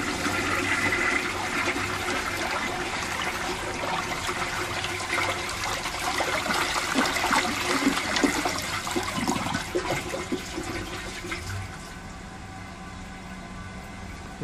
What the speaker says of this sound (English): So I'm going to give this its second flush